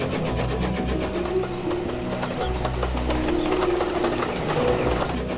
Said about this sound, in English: Ariel was taking a private train from Kronk to Crovan's Gate